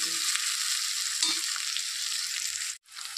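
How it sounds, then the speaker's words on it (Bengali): Onions fry in hot oil until browned, giving a dense, continuous close sizzle with a brief stir, which cuts out abruptly near the end. "পেঁয়াজটাকে ব্রাউন কালার করে ভাজতে হবে।"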